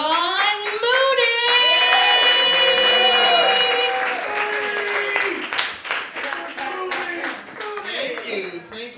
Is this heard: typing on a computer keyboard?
no